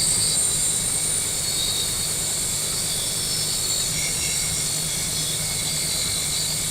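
A 1929 Model A truck engine runs at a steady idle with a constant whirring drone and a faint high whine. There is no talk over it.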